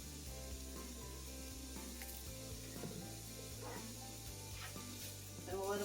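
Vegetables sizzle steadily in a hot pan, a constant crackling hiss with faint tonal background sounds underneath.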